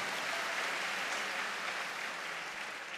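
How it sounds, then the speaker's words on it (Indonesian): An audience applauds at a lecture, a steady, faint wash of many hands clapping heard from a distance. "Tepuk tangan untuk bangsa Indonesia."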